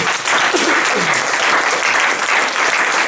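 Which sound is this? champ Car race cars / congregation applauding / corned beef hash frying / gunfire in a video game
congregation applauding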